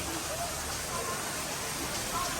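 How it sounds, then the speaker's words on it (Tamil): Heavy rain pours down on the last day in Bora Bora, a dense, even hiss of downpour that fills the whole moment at moderate level, with faint voices mixed in beneath it. "கொட்டுறது மழை."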